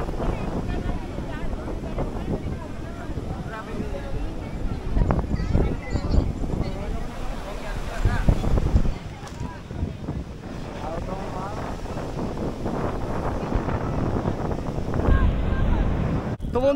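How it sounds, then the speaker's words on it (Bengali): Sea surf and wind on Puri beach at night: a continuous roar of breaking waves with wind buffeting the microphone, swelling and easing over time, with indistinct voices faintly in the background. "সমুদ্রের জলোচ্ছ্বাস দেখো।"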